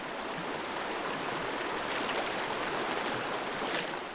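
An icy winter stream flows steadily with a dense, continuous rush of water, close and even, with no voices.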